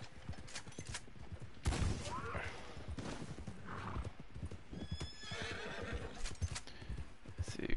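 A horse in Red Dead Online whinnies briefly amid steady clip-clop hoofbeats and other game ambience, with someone talking over much of it.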